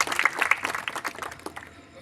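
Audience applause at a political gathering in Kannauj, a dense patter of many hands clapping for about two seconds, fairly loud at first and thinning out toward the end.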